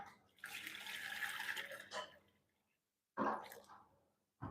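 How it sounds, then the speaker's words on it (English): Water pours into a cooking pot in a kitchen, a steady rushing splash for about two seconds, then a brief second pour after a pause, close and fairly quiet. "I'll be adding my water."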